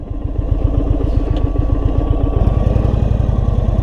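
A 2022 Indian Super Chief motorcycle rides with its V-twin engine loud and close, a fast, even pulsing thump that holds steady throughout with no talking.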